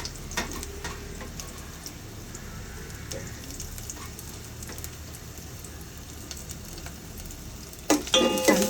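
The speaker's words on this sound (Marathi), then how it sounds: "आलं लसूण मिरची छान परतून झाली आहे." Garlic, green chili and ginger pieces sautéing in ghee in a pan, a steady soft sizzle with light stirring throughout and a louder burst of crackling near the end.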